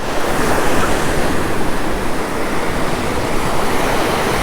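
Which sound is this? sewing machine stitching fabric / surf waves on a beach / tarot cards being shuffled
surf waves on a beach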